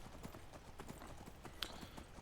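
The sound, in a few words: horse hooves galloping in the video game Skyrim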